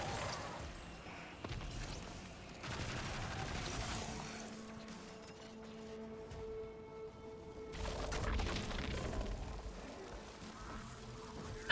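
Gunfire in Destiny 2 rattles in dense bursts of rapid shots and crashes, a continuous loud barrage that swells and fades across the stretch with no talking.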